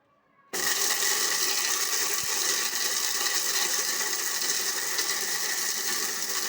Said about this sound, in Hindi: ग्राइंडर की आवाज़ से आपको पता चल रहा होगा कि गरम मसाला जो टोटली तौर पे खुश्क है